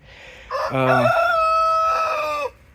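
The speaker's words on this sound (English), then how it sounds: "There's Henry, our rooster." A rooster crows once, loud and close, a single drawn-out cock-a-doodle-doo lasting about two seconds with nothing else around it.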